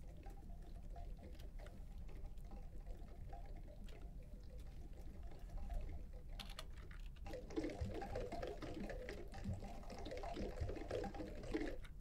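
A sound buffer played back through a bank of resonant filters tuned to an array of frequencies from 100 to 800, giving a soft, hissing, pattering wash with faint ringing tones that thickens and brightens toward the end, quiet and continuous.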